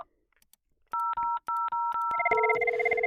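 Virtual IP phone dialing an outgoing call: several clean two-tone keypad beeps in quick succession, followed by a steady ringback tone, heard close and alone without talk.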